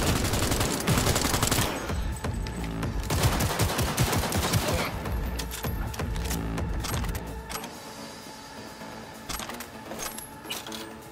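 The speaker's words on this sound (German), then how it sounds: "Sechzehn Schuss." Gunfire in the video game Cyberpunk 2077: a dense run of rapid shots for the first several seconds, loud and close, then scattered sharper bursts and clatter over a lingering background.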